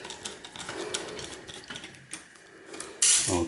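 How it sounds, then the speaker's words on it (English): Screwdriver turning a screw out of a DVD recorder being scrapped, heard as quiet close ratcheting clicks and scrapes, then a brief louder clatter at the end. "so we'll just remove that screw there"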